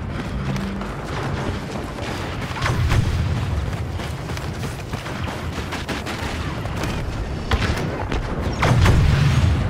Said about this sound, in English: Artillery, fire away.